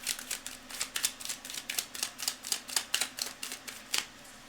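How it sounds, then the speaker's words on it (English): A deck of cards being shuffled in quick repeated riffles, giving a steady run of crisp papery bursts about every quarter second for several seconds, fairly close and quiet with no talking. "I just need a little bit more shuffles."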